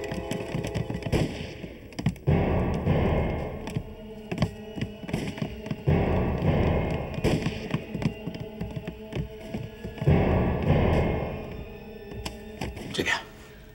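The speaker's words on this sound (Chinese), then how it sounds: "枪声" Gunshots ring out in a wartime Chinese TV drama, a series of loud, sharp bangs and thuds spaced across the scene over a dense soundtrack with some voices.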